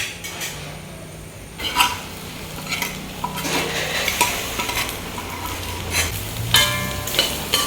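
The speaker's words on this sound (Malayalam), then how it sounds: "ഇനി നമുക്ക് വേവിച്ച് വെച്ചിരിക്കുന്ന ഈ ഒരു കക്കയില്ലേ അതിലേക്ക് ഇട്ട് കൊടുക്കാം." Cooked clams are tipped into browned masala and stirred in a pan: a metal spoon scrapes and clinks against the pan in repeated bursts over a light sizzle.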